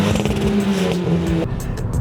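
Hyundai i20 N hot hatch engine revving, a close, loud droning note that holds and then drops off, with no talk over it.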